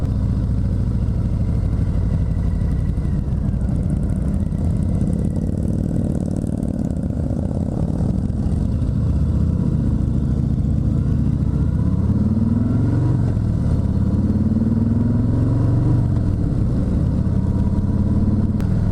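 A 2019 Harley-Davidson Sport Glide FLSB motorcycle rumbles steadily on a demo ride, its deep V-twin drone continuous and close throughout, with small swells in engine pitch as the rider rolls on and off the throttle; no voices.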